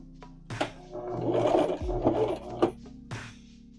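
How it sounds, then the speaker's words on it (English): Domestic sewing machine slowly top stitching a handmade bag with a quarter-inch seam allowance, a steady mechanical whirr running through most of the stretch with a few short knocks and pauses, close and moderately loud. "I'm going to use about 1/4 of an inch seam allowance to top stitch the bag in place."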